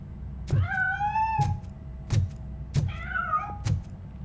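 A cat meows in the video game RoboCop: Rogue City, two or three clear rising-falling cries spaced apart, close and distinct over a low background rumble and soft thuds, with no talk.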